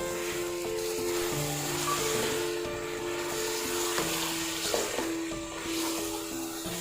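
Masala with finely chopped green chillies and ground cinnamon frying in a pan, a constant close sizzle with occasional scraping stirs and some tonal background hum.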